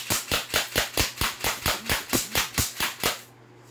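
An airsoft gun fires in semi-auto mode, giving about fourteen sharp, close, evenly spaced pops at a fast steady rate, then quiet.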